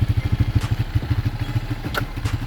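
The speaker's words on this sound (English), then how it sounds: "if you see the bike, make that clunk there, then it's in a gear" A motorcycle idles with a steady, pulsing putter close by, with a faint clunk as the shifter is pressed down into first gear with the clutch pulled in. Nobody speaks.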